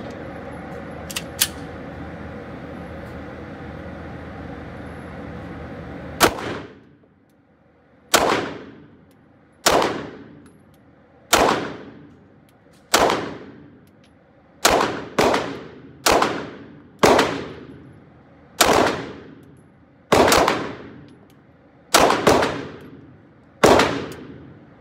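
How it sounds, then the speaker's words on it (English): Shots from a CZ P-10C pistol firing 115 grain ammunition at an indoor range crack sharply and loudly, about a dozen irregular reports with ringing decay, after a steady ventilation hum. "Now we'll be shooting the P-10C with the stock sights."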